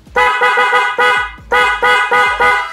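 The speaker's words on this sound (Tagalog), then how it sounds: "EIA Auto Style Horn." An EIA Auto Style horn fitted to a Vespa Primavera S 150 scooter blares loud and close in a rapid series of honks, short bursts followed by a longer blast, then more quick toots, with no talking.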